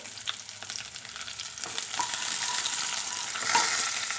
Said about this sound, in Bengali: ওর মধ্যে পেঁয়াজটাকে দিয়ে ভালো করে ভেজে নেব